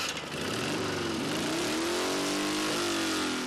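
A retro motorcycle built from an old Dnipro frame revs loudly and up close, the engine climbing and settling over a rough idle, with no speech over it.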